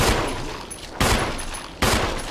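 Three sharp, loud gunshots fired at a zombie in Resident Evil, spaced about a second apart, each cracking hard and then fading with a short echo before the next.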